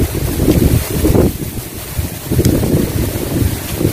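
Cool wind gusting across an open rice field, buffeting the microphone in uneven low rushes that rise and fall, with no talking.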